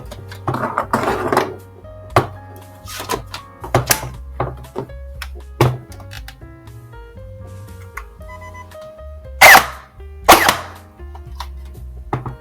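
A Nerf BK1S/BK2S blaster fires foam darts, giving scattered sharp clicks and thunks of mechanism and impacts across the stretch, with two louder bursts near the end, close and dry.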